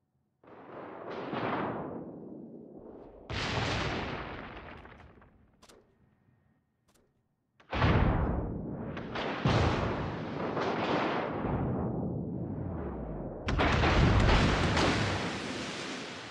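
Heavy naval guns fire on a designated target from a destroyer in the naval combat game Destroyer Academy, with a series of loud booming blasts and long rumbling decays separated by short quiet gaps.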